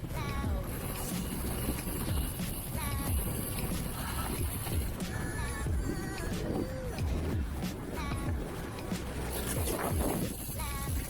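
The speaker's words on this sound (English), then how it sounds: "Noisy, noisy bike." A 2020 Orbea Occam M10 mountain bike being ridden on a trail, with continuous rattling and clattering from the noisy bike under heavy wind rumble, with a voice now and then.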